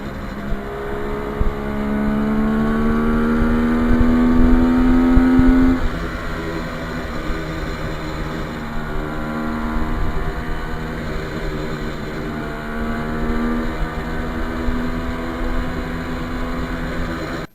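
A 1973 Kawasaki H1 two-stroke triple motorcycle rides past at speed, its loud buzzing engine holding a rising pitch, then dropping after a gear change and climbing again through further gears, close and continuous without voices.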